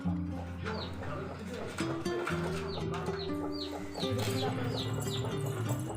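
Newly hatched country chicks peep in a steady stream of short, high chirps close by, with adult hens clucking and a low hum underneath throughout.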